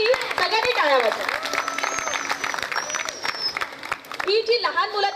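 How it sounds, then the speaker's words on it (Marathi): An audience at a Mangalagaur group performance claps for a choreographer, a burst of crowd applause heard under and between a woman's spoken announcement, fairly close and sustained. "तर तिच्यासाठी सगळ्यांनी टाळ्या वाजवा"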